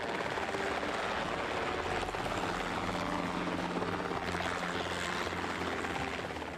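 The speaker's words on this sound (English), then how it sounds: "Rotating at a high speed, the tail rotor is almost invisible." A helicopter runs with its main and tail rotors spinning at high speed, a steady, dense whirring and thrumming drone heard at a distance, fairly faint and continuous.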